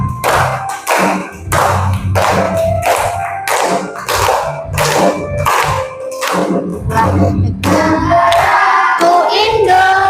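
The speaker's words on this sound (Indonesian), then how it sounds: "kita tepuk-tepuk, berdiri dulu" A class of children claps hands together in a steady rhythmic beat while standing for the Indonesian song Negaraku Indonesia, the claps loud and close, with sung voices joining toward the end.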